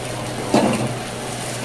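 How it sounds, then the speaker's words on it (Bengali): Eggplant frying with neem leaves in a home kitchen pan, a steady soft sizzle with one brief louder burst of stirring near the start, otherwise low and even. "নিম বেগুন ভাজা নিম পাতা দিয়ে"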